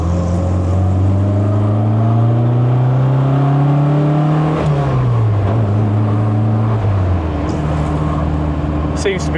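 An MG Midget's engine runs steadily and loud up close, its pitch rising slowly and then dropping away as it settles, with people talking over it.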